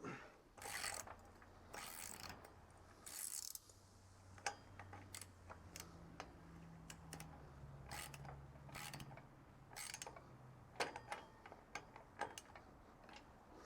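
A boat trailer winch strap is ratcheted tight, a run of close, crisp ratchet clicks and clacks in uneven bursts with faint mechanical creaks between, no talking.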